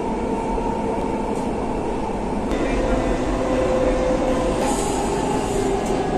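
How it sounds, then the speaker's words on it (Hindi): A Dubai electric train at a station gives a steady close rumble and hum of wheels and motors with a faint whine, continuous throughout, while someone talks over it. "ये हमारी ट्रेन, हम यहाँ से उतर आए"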